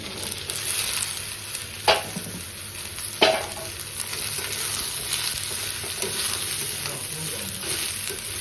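Potato and eggplant pieces fry with onions in a pan, producing a steady close sizzle with two sharp clatters of stirring or pieces dropping in.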